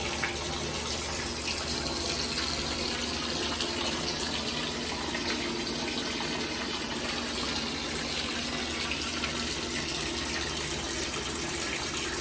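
Water pours steadily into a bathtub to submerge a sleeping pad, a constant close gush and splash with no pauses.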